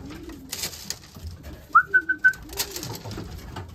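Racing pigeons in a loft give soft, low rolling coos, with a brief run of four sharper whistling notes in the middle; light shuffling and faint rustles fill the quiet background.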